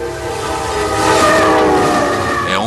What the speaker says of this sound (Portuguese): o trem vai subir até o Planalto Tibetano e cruzar o teto do mundo